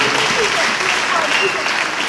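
A church congregation at a worship service in Côte d'Ivoire applauding and cheering for the Lord, a dense, loud wash of clapping and voices filling the room.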